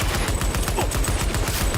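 Rapid automatic gunfire in Cyberpunk 2077, a fast steady stream of loud close shots filling the whole moment.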